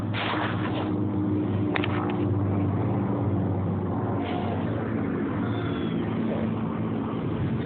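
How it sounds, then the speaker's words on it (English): A truck rumbles past outside, a steady low engine drone with road noise holding throughout at moderate distance, no voices over it. "Oh, the truck moving is actually convenient."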